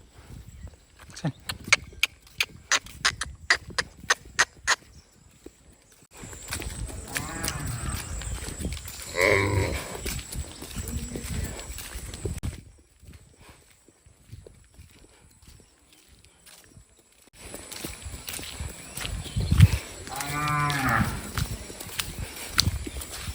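Several long, low lowing calls from cattle kept with bullock-cart racing bulls, fairly close, with rhythmic hoof clops and rustling between them.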